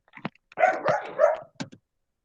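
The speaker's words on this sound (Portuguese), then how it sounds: "deixa eu botar aqui o cachorro para fora, que não tem condições, não" An indoor dog barks several times in short bursts, loud and close, with a couple of yips trailing off before silence.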